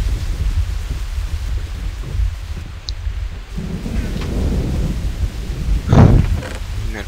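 Rain hisses steadily in a Minecraft thunderstorm while low thunder rumbles underneath, building to a louder crack near the end, with no talking.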